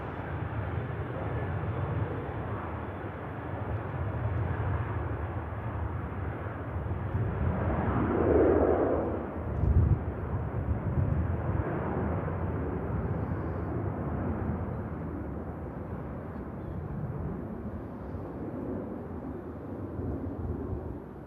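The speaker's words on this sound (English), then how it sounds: "Tui 737 just rolling on 2-3 left." TUI Boeing 737-800 rolling down runway 23 left on takeoff on an evening, a distant broadband jet roar that swells mid-clip and slowly fades, no voices.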